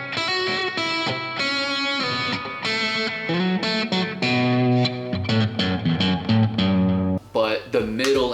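Distorted electric guitar, a 1981 Fender Telecaster on its bridge pickup, plays a gritty riff of chords and single notes, bright and crunchy, with a short pause near the end.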